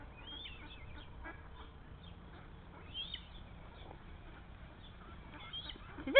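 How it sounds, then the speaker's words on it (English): Ducks quack faintly at a distance in a few scattered, irregular calls over a quiet outdoor background. "Watch the ducks. Keep an eye on those ducks."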